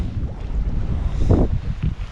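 Gusty wind buffets the microphone at Tsalka lake in Georgia, a steady low rumble with stronger swells, close and loud throughout.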